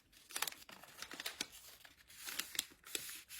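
Close, quiet crinkling and soft crisp snaps of a paper sheet being folded and pressed down into creases while making an origami Christmas tree, in irregular bursts.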